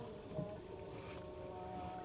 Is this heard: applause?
no